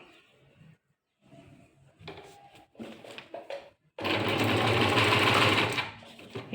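A sewing machine stitching during practice runs, first in short hesitant bursts, then a loud steady run of rapid needle clatter close by, with no talking.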